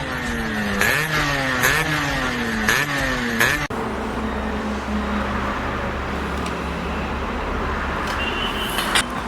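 A Suzuki Samurai two-stroke motorcycle revs with rising and falling engine pitch, then settles into a steady riding drone with road and wind noise, loud and close throughout.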